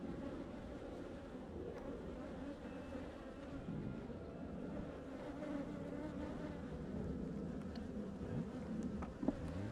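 Honeybees buzzing around an established colony during an April hive inspection, a constant soft droning hum of many insects close by, steady throughout with a faint brief click near the end.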